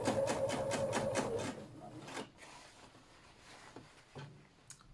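For about a second and a half, a sewing machine stitches a cap lining with a long stitch close to the edge, giving a quick, rhythmic run of close needle strokes, followed by quiet handling of the fabric.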